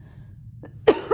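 A single sharp cough bursts out after a quiet stretch, close and loud, with a brief softer follow-up at the end.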